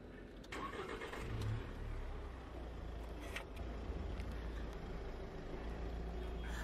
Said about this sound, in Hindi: तो अब गाड़ी को स्टार्ट कर लेते हैं।